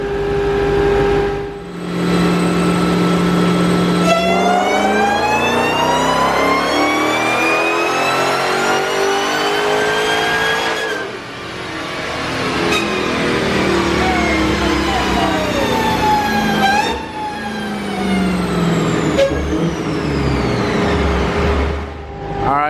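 A Dodge Demon roars through a roughly 900 horsepower dyno pull, engine pitch climbing in long sweeping revs that peak, drop briefly at gear shifts and surge again, loud and close throughout.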